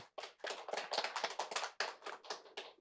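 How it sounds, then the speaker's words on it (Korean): An audience at the 2020 UNESCO Global Network of Learning Cities results-sharing conference in Korea gives brief applause. The clapping is light and scattered, with distinct individual claps close by and no talking. "박수로 환영해 주십시오."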